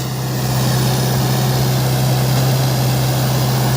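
A Solis 110 HP tractor engine runs steadily in a field, a loud, deep, unbroken diesel drone with a strong low hum throughout and no speech.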